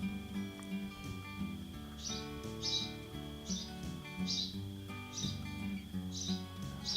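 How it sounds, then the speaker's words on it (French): Small sparrow chirping in repeated short bursts over steady music or background sound in a painting studio, bright notes recurring roughly every second, moderately clear. "on commence à entendre notre petit oiseau, notre petit moineau qui se fait aller"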